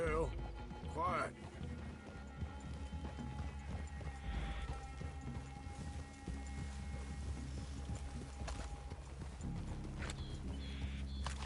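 Horses trot in Red Dead Redemption 2, a steady clip-clop of hooves running under other game sounds and background voices.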